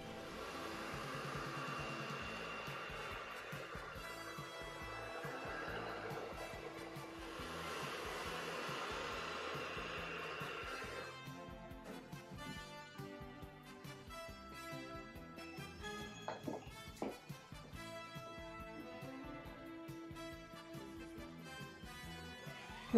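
A hot air tool blows with a steady whooshing roar while heating a Saint Seiya figure part, running about ten seconds before giving way to music and scattered light clatter.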